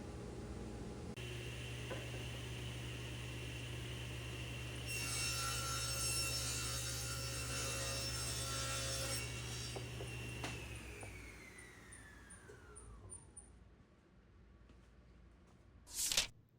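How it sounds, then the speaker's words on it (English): CNC router cutting the union design of a wooden American flag, a steady motor whine and hum under a rising cutting noise that spins down and stops, followed by a brief sharp clack. "a CNC router does the work quickly and accurately"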